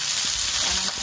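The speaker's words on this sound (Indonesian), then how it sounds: "Ditumis dulu biar jahenya meresap" Pig trotters sautéing with ginger in a hot pan give off a steady, close broadband sizzle with faint stirring clatter underneath, continuous throughout without any talking.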